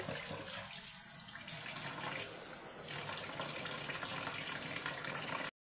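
Pomfret fish is washed under a running kitchen tap, a steady close gush of water splashing into a sink that continues evenly before stopping abruptly at the end.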